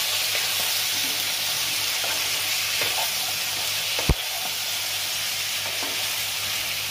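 Cumin, coriander and ginger paste frying together with taro pieces in a pan, a steady loud sizzle running throughout with soft stirring and one sharp clink of a utensil partway through.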